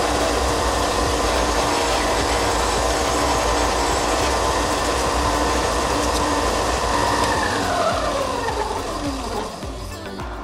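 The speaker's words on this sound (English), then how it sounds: "I'm gonna use my disc sander and round this over a little better." A disc sander rounds over the edge of a homemade dome port lens part, giving a loud, steady grinding whine at close range that holds for several seconds before the motor winds down in falling pitch near the end.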